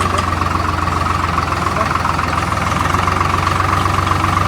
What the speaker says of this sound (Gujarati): બહુ દિવસ પછી ટ્રેક્ટર ચલાવું મિત્રો